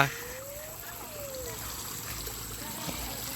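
Water flows steadily along a flooded canal in front of a house, making a continuous, fairly faint trickling and rushing sound outdoors.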